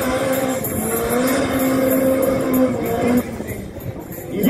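Race car engine roars loudly and steadily down a drag strip at a Kimberley track, one of two cars being a Kadett Superboss and a turbocharged 4AGE Corolla, with the pitch climbing through gears before a brief drop.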